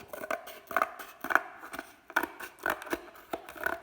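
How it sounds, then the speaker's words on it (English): Scissors snip through paper to cut out a paper bug shape, with a series of crisp, close cuts coming in irregular bursts and short pauses between them. "Then, very carefully, we want to cut it out."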